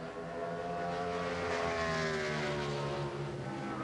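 A NASCAR stock car during 2012 qualifying at the Lenox Industrial Tools 301 eases off the throttle into a turn, its engine a steady, loud droning roar with slowly shifting harmonic tones, no voices over it.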